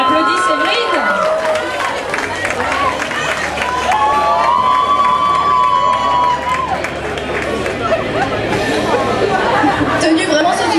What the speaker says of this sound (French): On applaudit Séverine.